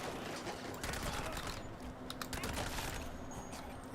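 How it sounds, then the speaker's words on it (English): Tommy gun bursts in a video game, rapid crackling fusillades rattling away at modest volume, overlapping and running nearly continuously through the moment. "Back to the Tommy gun."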